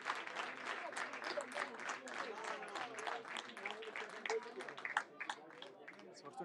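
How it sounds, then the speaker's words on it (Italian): Scattered crowd clapping for a footballer at a Promozione Sicilia match between Geraci and Villarosa, moderate and continuous beneath a commentator's voice. "Gli applausi per la Mindavo."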